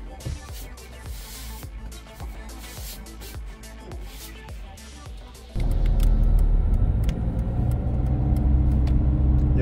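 A car's engine rumbles steadily from inside the cabin, first with rhythmic ticking on top, then swelling into a louder, fuller road roar as the vehicle speeds up.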